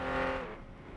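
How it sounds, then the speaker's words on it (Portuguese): A 50cc motorbike engine revs steadily in a racing video game while the bike drifts, a loud buzzing drone that holds strong then eases slightly, with no talking. "Olha, mano, fazendo drift de bicicleta motor aí"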